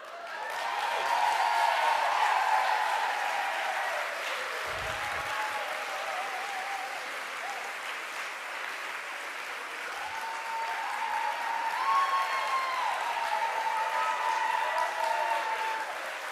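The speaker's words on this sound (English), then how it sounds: "Why are you clapping?" Sustained audience applause fills the room, steady dense clapping that swells again toward the end, with a voice faintly underneath.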